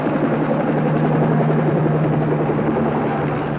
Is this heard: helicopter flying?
yes